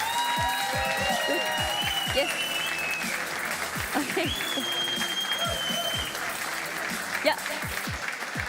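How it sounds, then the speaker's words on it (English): A crowd applauds at a Summoners War esports tournament, a sustained, steady clatter of clapping from an audience while a few voices speak briefly over it. "This is your applause."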